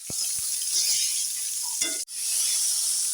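Coriander frying in oil, a loud continuous hiss and sizzle punctuated by several sharp utensil taps and a clatter, with a brief dropout before the sizzle resumes.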